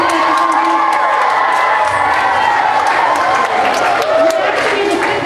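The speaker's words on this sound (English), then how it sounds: "Need a round of applause one last time for all the wonderful people that came up to help us today." A crowd at a large science-experiment event applauds and cheers continuously, with shouts and whoops rising over sustained clapping, loud and close throughout.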